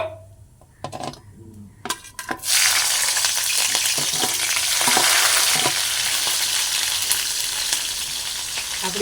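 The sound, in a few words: cinnamon and green chillies frying in a pan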